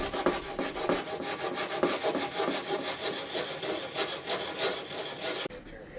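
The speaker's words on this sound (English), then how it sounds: "I'm going to use this sandpaper that's glued onto a piece of wood" Sandpaper glued to a wood block rubs back and forth across a wooden model ship hull, giving a steady run of close, scratchy strokes that continues for several seconds before stopping abruptly.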